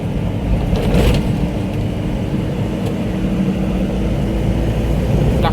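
A large goods vehicle drives onto National Highway 48 near Kolhapur, its engine and road noise a steady, loud low rumble throughout, with a faint higher whine briefly rising near the start.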